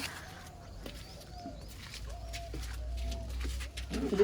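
Soft, low pigeon coos repeat several times in a quiet pigeon loft, with faint rustling and shuffling around them.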